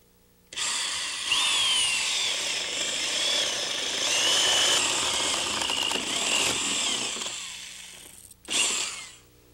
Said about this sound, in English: Now I have to drill a couple holes.